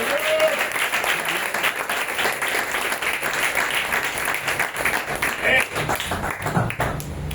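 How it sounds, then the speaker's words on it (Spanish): A church congregation claps and applauds continuously for several seconds, a dense, steady patter of many hands filling a large room. "Dame un aplauso al Señor en esta mañana."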